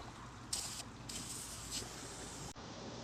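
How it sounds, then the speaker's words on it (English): Two short hissing bursts from a can of chrome spray paint, close by and fairly quiet, with a steady soft hiss continuing between them. "I'm going to use chrome spray paint"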